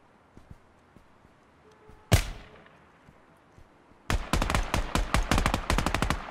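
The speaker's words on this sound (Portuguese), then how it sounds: "Foi eu que atirei no andaime lá" Shots fired onto metal scaffolding in the tactical shooter Ground Branch: one sharp crack with a ringing tail, then a pause and a fast run of about a dozen close, loud metallic shots in quick rhythm.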